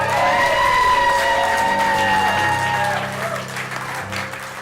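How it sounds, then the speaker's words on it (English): A live show crowd breaks into loud applause with cheering and high whoops, a wash of clapping and shouted voices that stays strong before easing slightly toward the end. "Big round of applause!"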